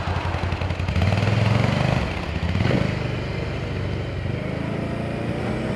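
A TGB Blade 1000 quad pulls away on a test drive, its engine revving up loudly from a steady idle, rising and falling in pitch as it moves off, close and alone without talk.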